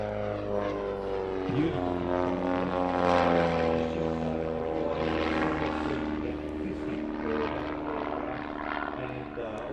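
A propeller aerobatic aircraft of the Su-31 or Edge 540 type flies low past the crowd at the Midlands Air Festival 2018, its engine drone swelling loud and steady with a brief spoken word over it.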